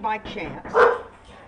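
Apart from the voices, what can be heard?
dog barking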